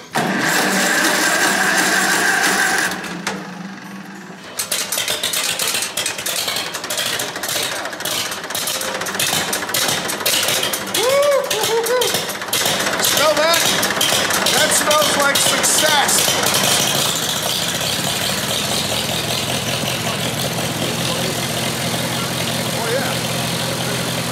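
Small homestead hay machinery engine starting up, then settling into a steady loud idle with rapid mechanical clatter, running continuously while people talk nearby.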